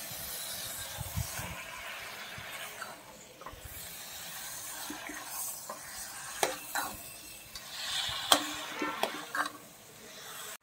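Duck curry with coconut milk is stirred in a pan, a soft steady simmering sizzle with scraping spoon strokes and small clinks growing more frequent toward the end, close and fairly quiet.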